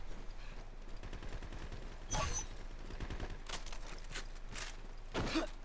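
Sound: shotgun firing in video game Lost Planet 2

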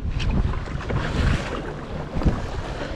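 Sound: wind and westerly sea swell around a fishing kayak

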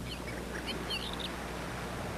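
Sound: birds chirping heard through a call microphone

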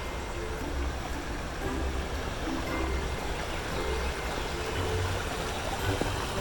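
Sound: waterfall in botanical gardens

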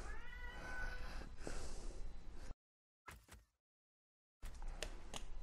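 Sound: small cat meowing

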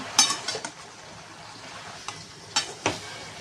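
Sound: sautéing roasted eggplant bharit in a pan

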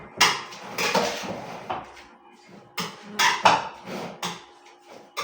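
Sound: turning leafy greens over in a cooking pot

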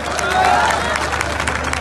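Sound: crowd clapping at an election rally

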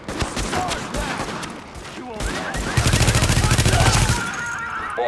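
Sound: machine gun fire in video game The Division

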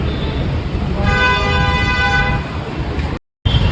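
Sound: traffic with car horns honking

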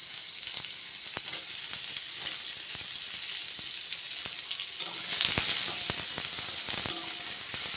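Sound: chopped onions frying in oil

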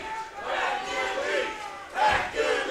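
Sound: crowd cheering for boxer John Torres

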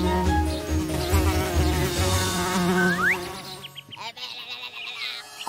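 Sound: bee buzzing, cartoon

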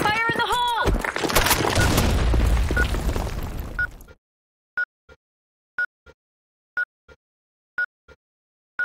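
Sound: grenade explosion in a video game

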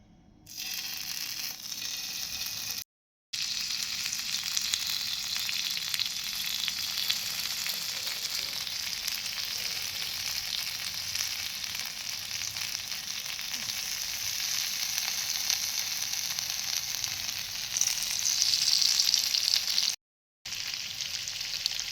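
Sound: chicken satay frying in oil on a hot griddle

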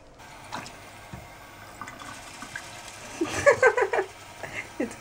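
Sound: refilling pot with water

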